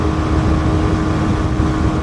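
Kawasaki Ninja 125 motorcycle engine running steadily at speed, a loud continuous drone with wind rush throughout, no talk.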